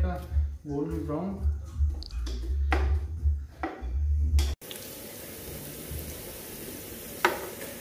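Onions frying to golden brown in a pan for spicy noodles, a steady sizzle under a voice describing the dish, then a quieter stretch of faint frying and stirring with one sharp clink near the end.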